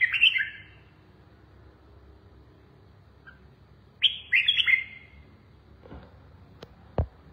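Red-whiskered bulbul singing in short bright bursts, one phrase at the start and a second cluster a few seconds later, with quiet gaps and a couple of faint clicks between; no talking.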